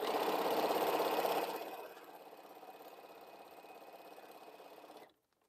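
A sewing machine stitching quilt pieces to sashing runs at a fast, steady whir that slows to a softer hum partway through, then stops abruptly.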